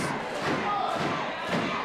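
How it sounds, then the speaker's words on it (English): An excited audience at a live HOPE Wrestling event keeps up a loud, sustained roar of cheering and shouting, with thumps from the ring and a commentator's voice mixed in. "The crowd are going nuts."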